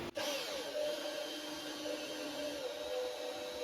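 A centre drill cuts into metal on a lathe turning at about 370 RPM, giving a faint, steady whirring hum with a brief knock at the start.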